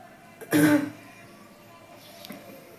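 A single short, close cough or throat-clear from a person suffering from a cold, followed by quiet room tone with no talking.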